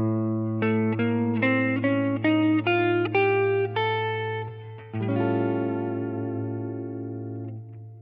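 Guitar playing the altered scale in A, single notes stepping up one after another in a steady run over a held low drone, with effects-laden sustain, then a ringing chord that fades out.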